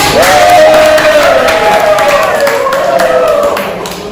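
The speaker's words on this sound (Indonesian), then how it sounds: "Silakan beri tepuk tangan ya." Students clap in a high school history classroom while voices call out and cheer loudly over the clapping, the whole burst close and lively before tapering off at the end.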